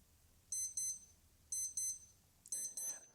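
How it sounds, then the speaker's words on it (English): A Casio A-159W digital watch alarm sounds in three bursts of shrill, piercing beeps, each burst a quick double chirp, loud and close with quiet gaps between. "So let's see how our alarm will sound."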